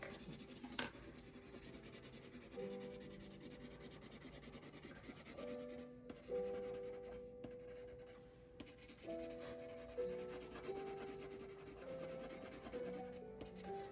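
Colored pencil, an orange shade, is pressed lightly across paper in a steady, faint scratchy rubbing that runs throughout, partly under soft sustained musical tones.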